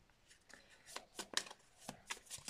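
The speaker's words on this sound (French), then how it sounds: "J'ai envie de tirer des cartes avec la licorne." Tarot cards shuffled and drawn, a quick series of soft papery riffles and flicks, close and fairly quiet, with no talking.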